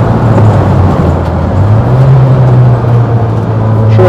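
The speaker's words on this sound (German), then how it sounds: "So können wir das Auto schön sportlich bewegen." A classic Volkswagen car driven hard along a rough road, its engine droning loud and close with a steady low hum that rises slightly in pitch as it accelerates, no voices over it.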